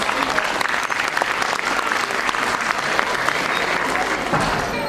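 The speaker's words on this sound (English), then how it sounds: "let's welcome them with a huge round of applause" Loud, sustained applause from an audience of parents at a students' class presentation, dense clapping filling the whole stretch without a break.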